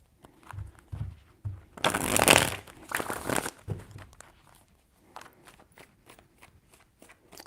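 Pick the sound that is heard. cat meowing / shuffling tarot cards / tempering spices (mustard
shuffling tarot cards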